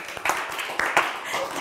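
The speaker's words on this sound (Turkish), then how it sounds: "Üzgün alkışa bak ya." Studio audience of a televised word-game quiz show giving a thin, half-hearted round of applause, a short patter of scattered claps with a few sharper accents, fairly close.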